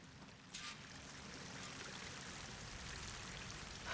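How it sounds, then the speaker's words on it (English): A waterfall in the video game Horizon Forbidden West gives a steady, broad rushing of falling water, continuous and moderately loud, with no talk over it. "That waterfall must be coming from somewhere."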